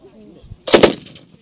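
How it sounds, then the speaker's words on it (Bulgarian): Gunfire at a shooting range where a Kalashnikov, a Dragunov sniper rifle and a machine gun are fired: one sharp, loud burst of two or three closely spaced shots, followed by a short decaying echo. "Участниците в надпреварата имаха възможност да опитат и стрелба с калашников, снайперова пушка Драгунов,"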